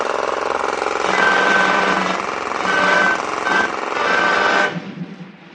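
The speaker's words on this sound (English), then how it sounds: "I can match their machine guns any time with this hammer" A loud mechanical hammering sound effect in an Orson Welles radio drama, a rapid steady machine-like pounding with a high whine over it, sustained for several seconds before cutting off, with no talk.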